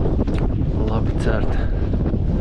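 Gusty wind buffets the microphone out on a frozen lake during ice fishing, a loud rushing roar with someone speaking briefly over it.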